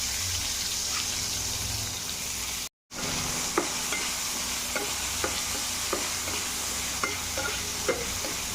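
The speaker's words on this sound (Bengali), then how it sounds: "পেঁয়াজটাকে হালকা ব্রাউন করে নেবো" Sliced onion frying in oil with mustard, cinnamon and bay leaf gives a steady, loud, close sizzle, with regular light clicks of a spatula stirring and one brief dropout near the start; no voices.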